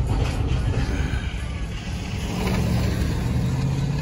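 A Ford car accelerating while overtaking, a steady mid-pitched engine drone with road rumble that builds slightly, heard from nearby.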